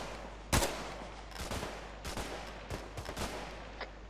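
A sharp, close gunshot in JTF121 Operation: Nemesis, followed by a scattered series of fainter, irregular shots over about four seconds with no voices.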